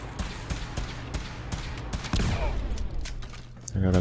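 Grenades thrown and bursting in Fallout 4 combat, a series of sharp thuds and blasts among rapid gunfire, with a louder burst near the end, while a player talks over it.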